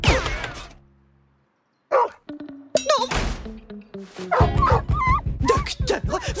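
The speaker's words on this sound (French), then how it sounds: "Un chat qui aboie." A cartoon cat barks like a dog in an animated series scene, a run of loud yapping, bow-wow style barks after a brief silence, mixed with character voices and effects.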